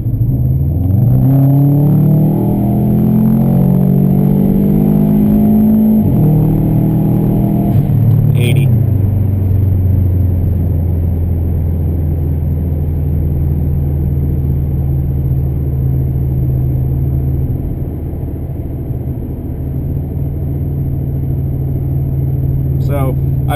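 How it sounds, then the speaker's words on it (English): A 2004 Subaru WRX with an automatic transmission is floored from about 40 mph, its engine revving loudly and rising in pitch through a gear change, then settling into a steady, strong drone. "I'm gonna floor it in 3,"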